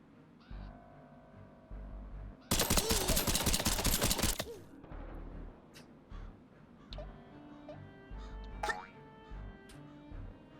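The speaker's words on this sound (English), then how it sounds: "Now let's use the other gun here." A two-second burst of rapid gunfire from a weapon in the video game Worms W.M.D., loud and dense. Quieter game sounds come before and after, including bird-like caws.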